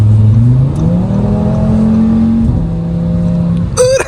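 A 2022 Audi RS3 fitted with a new AWE Tuning exhaust, loud and close, revving with a deep engine note that climbs and drops in pitch, ending with a short sharp burst.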